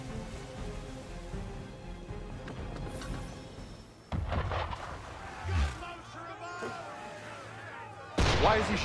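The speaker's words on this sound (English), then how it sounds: "Why is he shooting at us?" Ship cannon fire from Assassin's Creed III booms near and sharp over the sea, a few heavy blasts with rumbling tails, followed by people talking.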